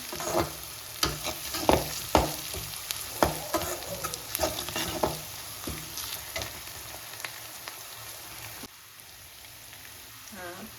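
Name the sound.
dried red chillies frying in oil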